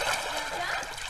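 A brief splash of someone entering water in an outdoor setting near a well, a quick close sloshing burst overlapped by voices, with someone speaking through it.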